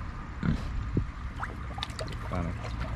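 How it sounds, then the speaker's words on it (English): Bubbling and gurgling water with soft grunting oinks from a pig, mixed with faint trickling splashes and a voice in the background. "She's bubbling up."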